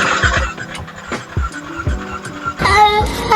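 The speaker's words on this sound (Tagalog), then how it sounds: "Para marinig nyo rin yung tunog ng connecting rod." Connecting rod noise from the engine of an NMAX 155 V1 scooter with a ticking fault: repeated sharp mechanical knocks and clatter over an idling engine hum, close and fairly loud, with a rougher burst near the end.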